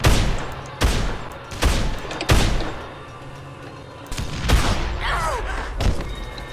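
Gunfire in the zombie game Dead Island: four heavy, booming shots land about a second apart, then a busier stretch of rumbling, crackling action sound follows with one more thud.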